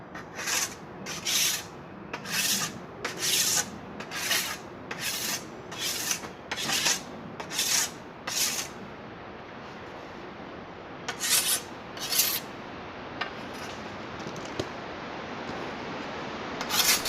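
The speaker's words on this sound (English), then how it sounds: "You want to get the rust edges off of it. Get down the shiny metal." Rusty metal edges are scraped down to bare shiny metal with a tool, a string of about a dozen close, rhythmic rasping strokes, then a pause, a few more strokes, and steady wind noise underneath.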